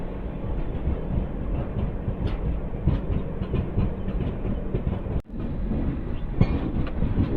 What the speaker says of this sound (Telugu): చూసుకుంటే మన ట్రైన్ అయితే ట్రాక్ చేంజ్ అవుతుంది.